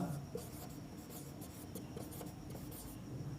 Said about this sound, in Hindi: एक वर्ड लिखते हैं